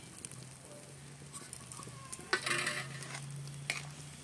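Grated coconut and melted jaggery filling stirred in a pan as it cooks, with a faint sizzle under soft, scraping stirring strokes that swell briefly louder midway, no one talking.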